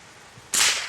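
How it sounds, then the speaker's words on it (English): A single Ranger .22 gill gun shot fired at a cardboard target about 10 meters away: a quiet lead-in, then one sharp crack that lingers into a sustained hiss and decay. "Now I'm going to take a shot at my cardboard target there at 10 meters"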